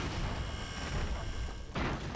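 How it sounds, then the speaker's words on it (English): Dense, rumbling explosions and artillery-like booms roll on almost without pause in the airship battle game Airships: Conquer the Skies, with a brief dip before the blasts return. "that's explosions all over the place"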